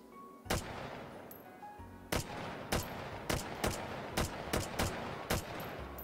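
Single gunshots in the VR shooter H3VR, around nine sharp cracks fired one at a time in an uneven rhythm, close and distinct against a quiet background.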